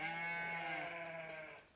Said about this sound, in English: listen to my sheep in the background